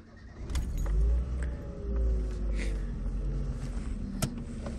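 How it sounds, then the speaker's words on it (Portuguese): A Ford Fiesta Supercharger's engine starting up nearby, a low rumbling idle settling in with some small clicks and rattles, no talk over it. "Vamos dar a partida aqui."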